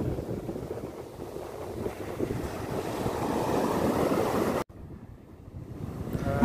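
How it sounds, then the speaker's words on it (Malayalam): Sea waves and wind at sea during a fishing trip, a steady broad rushing wash with wind buffeting the microphone, dipping briefly near the end before building again. "നല്ല തേര അടിക്കണ ധാരാളം നല്ല തേര"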